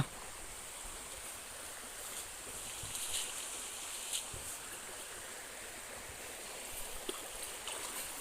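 Water flows steadily at the edge of a fishing-net setting, a continuous broad wash with faint splashy ticks, moderately distant and even throughout, with no voices.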